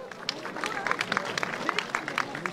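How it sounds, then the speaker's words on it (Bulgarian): Crowd applause for boxer Krasimir Vasilev at a professional boxing event, a dense spread of clapping from the arena audience with some crowd murmur mixed in, moderately loud and steady throughout. "Още веднъж аплодисменти за Красимир Василев!"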